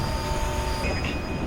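Train at Ekta Nagar railway station, a steady close rumble of rolling cars with faint wheel squeal and thin tonal whine, continuous and without voices.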